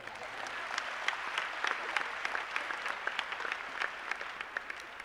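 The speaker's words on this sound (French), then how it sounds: "On peut les applaudir." A crowd at a Saint Valentine's evening gathering applauds married couples, giving dense, lively clapping that carries evenly throughout at moderate volume, with no speech over it.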